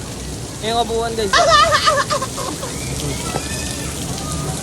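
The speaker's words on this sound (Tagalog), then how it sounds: "Ulan dito." Rain falls steadily at a water resort with slides, a continuous hiss of drops under a voice talking excitedly nearby.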